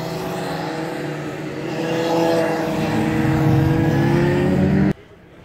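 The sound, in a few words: motorcycles riding past during corner training on racetrack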